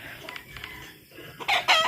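Chickens kept as pampered pets cluck in a short burst, with the loudest calls coming near the end, fairly close and moderately loud over quiet background.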